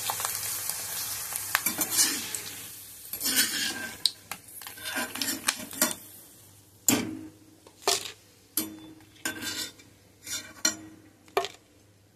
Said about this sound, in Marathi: आता आपण तळून घेऊया. थोडे तळून बघूया.